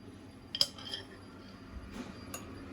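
Spoon clinking against a glass while honey is mixed into water for a cool drink, a few light, faint chimes and taps spaced apart in a quiet room.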